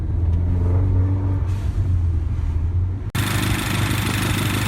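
A Mini Cooper engine running steadily as the car drives slow laps around a residential neighborhood, a low continuous drone with a sudden brief dip and shift in tone partway through.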